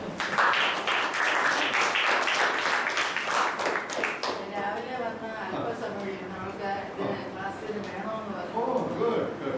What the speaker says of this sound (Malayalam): so give Har A clap